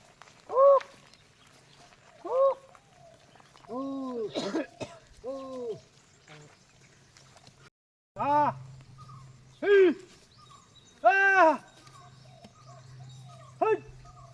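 A man gives a series of short, throaty calls to drive native cattle, repeated at irregular intervals with pauses between, close and fairly loud.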